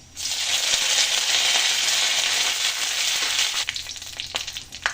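Dry red chillies and curry leaves sizzling in hot oil in a pan, a loud, dense continuous hiss that starts suddenly, holds steady, then breaks into crackles and pops as it settles.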